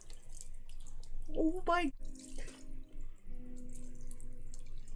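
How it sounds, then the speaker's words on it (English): Cold water running from a tap, a steady close rush that continues throughout while a person exclaims briefly over it. "It's just water."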